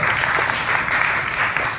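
Loud, dense applause rolls through a church congregation at a candlelight service, a thick continuous clatter of many hands held for the whole moment.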